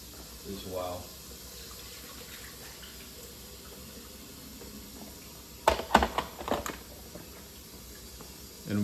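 Tap water runs steadily through a countertop reverse osmosis filter during a rinse, a constant hiss and splash filling a container, with a brief burst of clatter and louder splashing late on.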